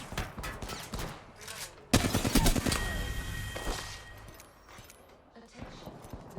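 Gunfire in Apex Legends: a loud burst of rapid shots, with the densest volley in the middle and scattered shots before and after, mixed with game effects.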